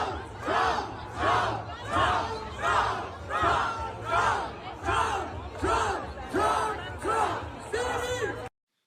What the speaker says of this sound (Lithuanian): kur žmonės visi skanduoja Trump, Trump, Trump.